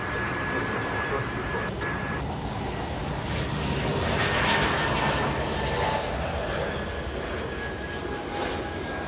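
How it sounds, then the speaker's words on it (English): An Airbus A220 jet takes off at Los Angeles International Airport with a steady, broad engine roar that holds strong and unbroken throughout, fairly close and loud. "That A220 taking off like a complete rocket."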